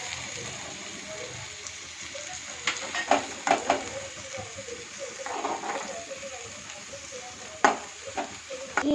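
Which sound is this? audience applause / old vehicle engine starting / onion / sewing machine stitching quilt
onion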